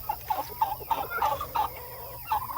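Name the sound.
meat bird chickens clucking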